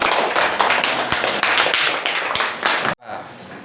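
A classroom of students claps for a classmate, a dense, lively burst of applause that carries on for nearly three seconds and then cuts off abruptly into a quiet room.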